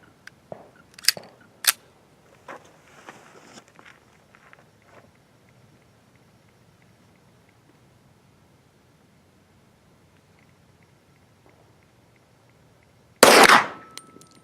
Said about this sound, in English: We're going to shoot the Arms Corps 125 grain 38 Super, 5 shots.